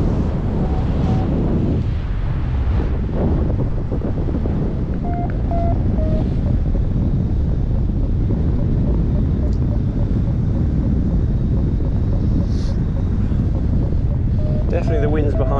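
Steady, loud wind roar buffets the microphone throughout while paragliding through the air after gaining some height, a continuous rushing noise with faint background tones.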